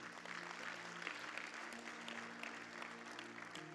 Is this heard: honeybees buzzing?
no